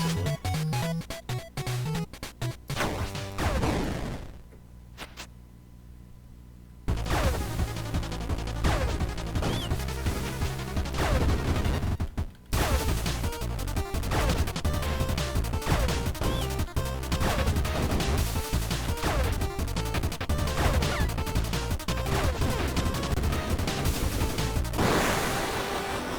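Bombs exploding in the bullet-hell shooter Star of Providence, a loud crash followed by a quieter stretch, then a relentless barrage of blasts and rapid shots filling the rest of the sequence.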